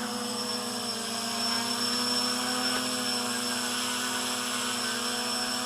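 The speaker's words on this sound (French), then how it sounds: "le drone est en l'air." A GAUI X500 drone hovers in the air, its rotors giving a steady, close, high-pitched whine with strong tonal buzzing that holds constant throughout.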